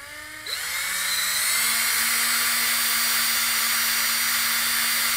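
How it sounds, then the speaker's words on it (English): A drill spins up and settles into a loud, steady whine as a hole saw grinds continuously through material, cutting feeder holes for a bird feeder, close and uninterrupted. "we started drilling the holes in, the feeder holes in with the hole saw and a drill"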